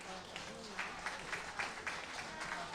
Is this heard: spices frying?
no